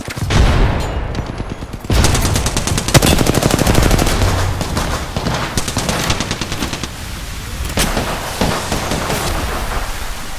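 Loud sustained gunfire in the Apex Legends video game, rapid automatic bursts rattling almost without pause over several seconds, punctuated by a few heavier booming shots, with no talk.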